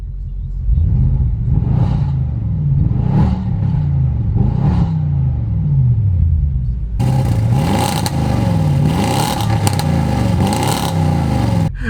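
Audi RS7 with an ARMYTRIX exhaust in closed valve mode, revved three times in quick blips near by, then held in a longer, louder rising and falling roar with a deep rumble.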